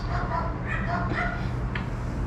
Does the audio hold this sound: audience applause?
no